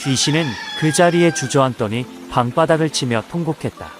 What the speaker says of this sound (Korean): 그러는 사이 시간은 흘러 닭 울음소리가 들려왔다.